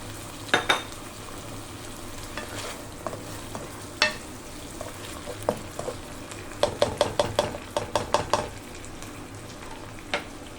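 Sardines fry in a pan with sautéed onion and garlic under a steady low sizzle, while a utensil stirs and scrapes in sharp clacks, clustering into a quick run of knocks near the end.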